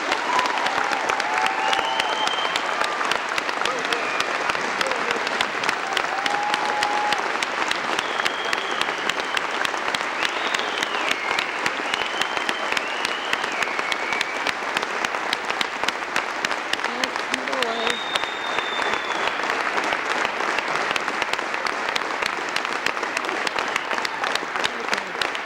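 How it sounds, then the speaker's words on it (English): Sustained applause fills a school gym during a 2003 state wrestling assembly, a loud, even roar of clapping from a large crowd with a few whistles and cheers rising above it. "I think that deserves a round of applause in itself."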